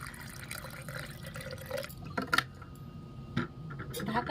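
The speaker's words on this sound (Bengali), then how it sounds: "সামান্য একটু জল দিয়ে দিচ্ছি" A little water is poured into lassi, a blend of yogurt, salt and cashew and pistachio paste, giving brief splashes and drips close by with soft background noise and no talking.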